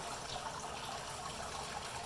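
Water trickling steadily through grain during a fly sparge in a Brewtools B40/B80pro brewing system, a continuous, even, moderately quiet liquid flow with no talking.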